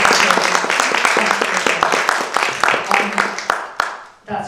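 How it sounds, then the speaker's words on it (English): A masterclass audience applauds at an improvement event, with a dense burst of clapping close by that fades out near the end, followed by a brief voice. "I do think she deserves a round of applause."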